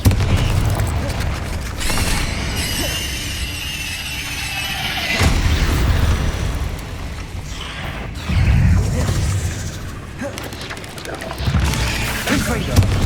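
Confringo fire-spell blasts in Hogwarts Legacy: several booming explosive bursts spaced a few seconds apart over combat noise and a speaking voice, each a loud low thump with a crackling tail.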